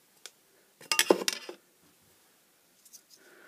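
A glass sheet lifted off inkjet transparency film during photoetching of circuit boards gives a brief burst of glassy clinks and scrapes, with a faint click just before and soft rustling afterward.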